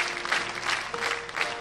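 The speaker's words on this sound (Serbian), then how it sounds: "Hvala za ovolike aplauze i u Vesnino ime" Applause from a TV studio audience at a Serbian variety grand show, steady dense clapping filling the short stretch with no clear speech over it.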